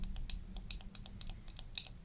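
Button clicks on a Joyetech Cuboid 150W vape mod: a run of light, quick plastic clicks in short bursts, close and fairly quiet over a faint low hum.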